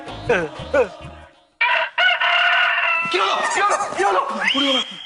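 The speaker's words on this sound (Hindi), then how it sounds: "आकाशवाणी यंत्र ने मुर्गे की बांग दी" A rooster crows loudly from a radio in a long drawn-out call following brief talking and clucking, with slightly boxy, broadcast-like tone.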